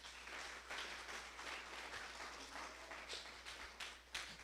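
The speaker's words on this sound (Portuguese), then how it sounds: "Dá um forte aplauso a Ele." Church congregation applauding during a worship service, a steady wash of clapping held at moderate level throughout, with no talk over it.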